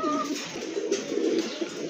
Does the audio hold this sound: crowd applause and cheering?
no